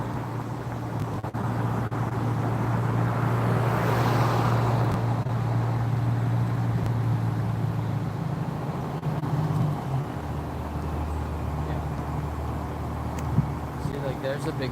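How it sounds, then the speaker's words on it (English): A big truck passes with a loud low rumble that swells in the first half then settles into a lower steady drone, with a voice talking over it. "There's a big truck going through there."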